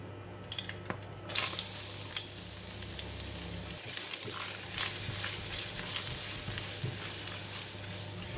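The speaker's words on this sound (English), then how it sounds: "garlic is turning brown, and I'm going to remove some from the pan" Garlic fries in onion oil in a pan, a dense steady sizzle close up, with occasional stirring clicks and a brief clatter near the start, no talking.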